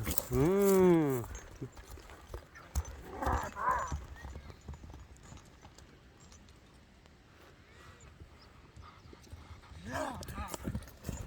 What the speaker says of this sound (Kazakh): Мынакей атты байкап көрсөңүздөр керек туугандар.